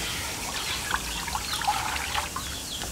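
Water trickling and pouring into a cooking pot of black marlin soup with bamboo shoot and coconut milk, a steady soft stream with light splashes, close by and without talk.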